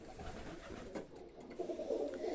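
Zamość pigeons coo softly in a breeder's loft, low muffled throaty calls rising toward the end, faint and close with no talk.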